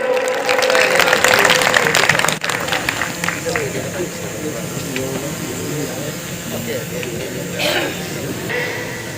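Loud, dense audience applause at a felicitation ceremony, strongest in the first couple of seconds and then carrying on more steadily with a broad hiss-like texture, with voices mixed in over the clapping.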